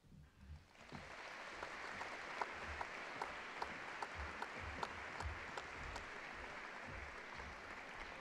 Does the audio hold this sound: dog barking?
no